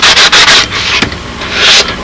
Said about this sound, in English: then I can sand all these other contours in for the final sanding